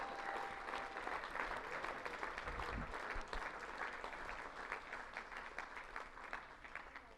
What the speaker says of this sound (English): Let's give Siu Mei a round of applause.